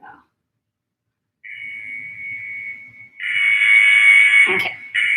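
Training interval timer during a climbing workout, a short tone followed by a sustained long electronic beep that grows louder, with a brief clatter near the end.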